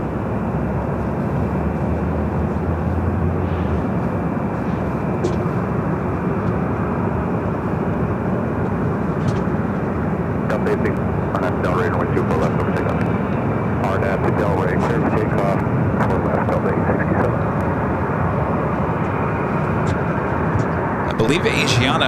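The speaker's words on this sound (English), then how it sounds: "Korean Air Flight 18 to A380 Super now heading up here for a north side to takeoff at 24 left." A Korean Air Airbus A380 rolls for takeoff on runway 24 left at LAX, its engines a steady, loud, broadband roar that swells and holds throughout, heard from a parking garage with faint voices nearby.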